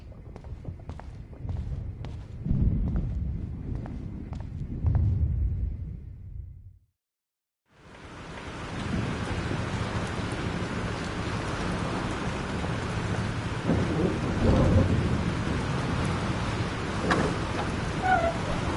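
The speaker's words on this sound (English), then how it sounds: "This storm is real." Thunderstorm in the video game Life Is Strange: steady heavy rain with rumbling thunder, broken by a brief silent gap, then a dense, loud downpour that continues without talk.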